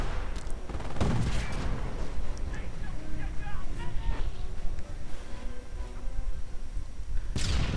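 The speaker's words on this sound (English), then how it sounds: "More booby traps going off." Booby traps explode in a World War II real-time strategy game, with dense overlapping blasts and rattling gunfire forming a continuous battle din and a strong bang near the end.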